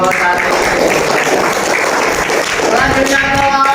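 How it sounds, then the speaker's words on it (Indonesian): Classroom of fifth-grade pupils clapping for a presenting group, a dense steady patter of hands over the full stretch with children's voices mixed in underneath. "Tepuk tangan untuk kelompok 1."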